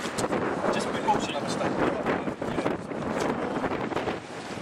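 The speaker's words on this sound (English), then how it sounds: "it's getting really windy down here" Strong wind gusts buffet the microphone outdoors in a steady, loud broadband rush, with a voice talking intermittently beneath the roar.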